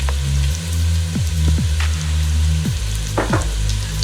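Two cloves of ground garlic hit a hot pan for a Peruvian ají de gallina, producing a loud, steady sizzle with a few scraping stirs, close and uninterrupted by voices.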